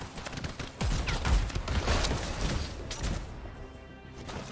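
Shotgun blasts in the video game Anthem: several heavy booming shots in close succession with crashing impacts in between, loud and near, fading slightly toward the end without any speech.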